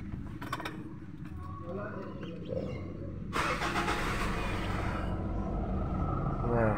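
A Mitsubishi Montero's engine cranks and catches, settling into a raised idle rumble after a brief mechanical rattle, with someone talking nearby before and during the start.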